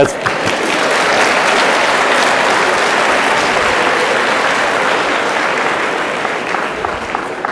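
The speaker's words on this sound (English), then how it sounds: "Yes, you can give him a round of applause for that." Loud, close applause from the audience at a Walden University NSLS induction ceremony, dense clapping that swells quickly, holds steady, then tapers slightly toward the end.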